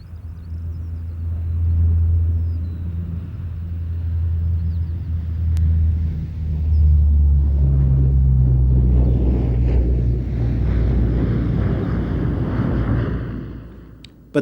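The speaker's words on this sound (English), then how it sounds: "The MC-130H is operated by locally based special forces." An MC-130H special forces aircraft flies past at Mildenhall Air Fete 95. Its deep, rumbling drone swells, holds, then fades, with wind buffeting the microphone.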